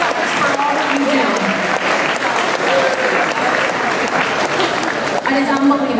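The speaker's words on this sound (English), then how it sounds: "give you a round of applause for all the incredible work that you do" Audience applause at a gala event, a dense sustained burst of clapping filling the room for several seconds, loud and close, with a voice speaking over it.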